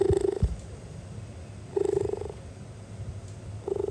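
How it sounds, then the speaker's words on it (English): Cheetah purring in three rhythmic bursts, each a rumbling buzz lasting about half a second, separated by quieter breathing pauses; close and fairly loud with low thumps at the start. "Cheetahs also purr,"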